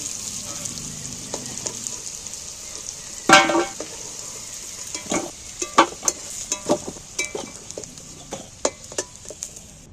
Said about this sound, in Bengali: আলুগুলো একদম লাল লাল করে ভালো করে ভেজে নেব